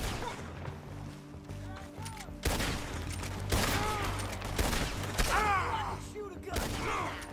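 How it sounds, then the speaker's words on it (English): Gunfire in the video game Red Dead Redemption 2, a volley of loud repeated gunshots with ricochet whines and impacts over a droning background, the shots close together and fairly near. "Shoot a gun."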